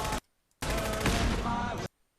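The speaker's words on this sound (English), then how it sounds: "Here, an explosion went off," Loud burst of an explosion in the Fallout 4 game shown at E3 2015, preceded by a short sharp blast, then a longer crackling, rumbling roar lasting over a second before cutting out, with no talk over it.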